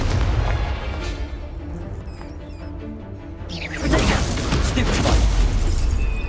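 A Confringo spell explosion from Hogwarts Legacy bursts in loud and broad partway through, following a stretch of low rumbling game ambience and holding a heavy, noisy roar afterward.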